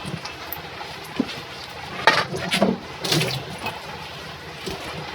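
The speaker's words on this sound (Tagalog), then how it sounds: "Ito, maghuhugas na ng plato." Dishes washed at a sink in a home kitchen in the morning: scattered clinks and clatters of plates over a low background hum, with a few louder knocks in the middle.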